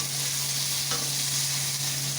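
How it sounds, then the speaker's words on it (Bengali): Eggplant and a whole bitter gourd fry in hot oil, giving an even, unbroken sizzling hiss over a low steady hum. "এই তেলের মধ্যে বেগুনগুলো দিয়ে দেবো ভাজার জন্য"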